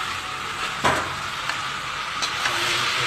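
Pointed gourd fries with spices in a hot pan in a home kitchen, making a steady, bright sizzling hiss that stays close and constant, broken by a few soft clinks of stirring.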